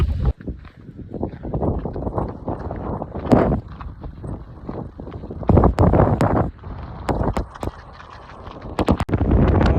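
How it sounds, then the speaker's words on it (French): Strong gusty wind buffeting the microphone in loud, uneven rumbles and roars, with sharp knocks and clatters scattered throughout. "Le vent est présent."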